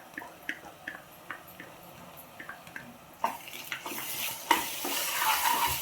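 Ginger garlic paste hitting hot oil in a pan while cooking aloo kurma, with scattered stirring clicks and a sizzle that swells suddenly louder and brighter partway through and keeps hissing to the end.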